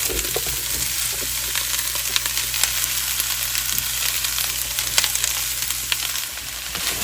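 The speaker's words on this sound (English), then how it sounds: "I'm going to go ahead and throw my vegetables right in the Tiborang pan, nice and hot" Vegetables fry in a hot, dry Tiborang nonstick pan, giving a loud, steady sizzle that runs the whole time with a few light scrapes and clicks from tossing.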